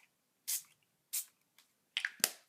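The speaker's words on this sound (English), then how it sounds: "I'm going to spritz some of this on and see what happens." A spray bottle spritzing liquid onto salvaged-bird craft pieces, three or four short crisp bursts, each a quick airy hiss, close and alone with small handling noises between.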